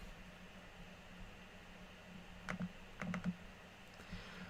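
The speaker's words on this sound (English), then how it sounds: "Now I'm just typing it, so now it's official." Someone typing on a computer keyboard indoors: faint, scattered key clicks that bunch into a few quick taps near the middle, set against steady background hiss with no speech.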